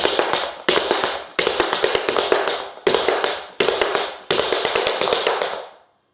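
Tap shoes strike a hard floor in a train combination. Six quick, crisp bursts of taps repeat the same rhythmic phrase with brief gaps between them, close and loud, with no talking.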